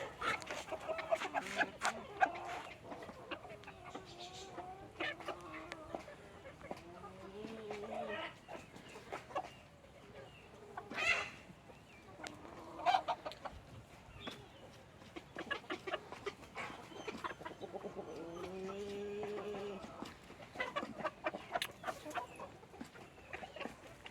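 Hens and a rooster cluck and squawk near and far at a backyard coop where the birds are being let out, a busy, continuous stream of overlapping calls with a few louder bursts.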